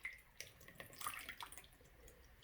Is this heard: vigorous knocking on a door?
no